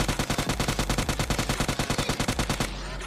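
Rapid automatic gunfire in the battle royale game PUBG Lite, a fast even burst of about two dozen close, punchy shots that stops abruptly near the end, leaving a faint tail.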